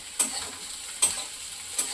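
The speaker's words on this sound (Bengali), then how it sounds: "নেড়ে নিচ্ছি" A spoon scrapes through dahi masala mushroom frying in a pan, three short distinct strokes roughly a second apart over a low continuous sizzle, close up and without talk.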